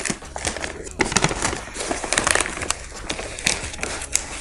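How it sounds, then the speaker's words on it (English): Paper wrapping on a box inside a retail package is peeled and torn off, close-up crinkling and crackling in irregular bursts. "Let's just unwrap this neatly."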